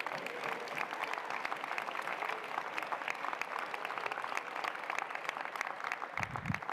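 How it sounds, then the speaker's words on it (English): A convocation audience applauds, dense steady clapping from many hands filling the space evenly throughout, moderately loud with no break. "You can clap."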